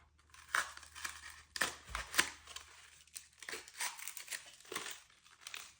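Scissors snipping and crinkling through papery piñata material as it is cut into a pie shape, a string of close, dry cuts and rustles of varying loudness with no talking.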